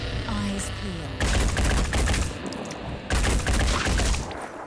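Two loud bursts of rapid automatic gunfire come from the Phoenix Point game, each about two seconds long, close and crackling, with a quieter gap between them.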